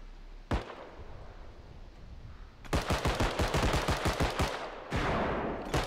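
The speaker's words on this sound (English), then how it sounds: "Trying to shoot at me, you're missing every shot." Gunfire in a realistic bodycam-style shooter game: a single loud shot, a pause, then a fast rattling burst of automatic fire and a final sustained volley, all close and sharp.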